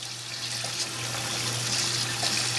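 Tap water runs through a sieve of chopped chicory roots under a sink faucet, a steady splashing trickle with a low hum beneath it and no talking.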